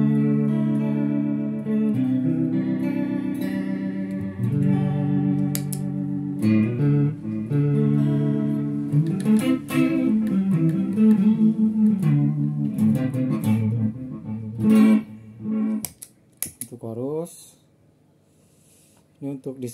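An electric guitar plays through the chorus section of an Ahs 4-in-1 pedal strip. Sustained, shimmering chords and single notes ring for most of the passage, then fade into sparse plucks and short gaps near the end.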